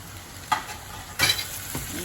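Tomatoes tipped into frying rajma masala and stirred, producing a constant sizzle broken by two or three loud scraping stirs and brief bursts of hissing, close by with no talk.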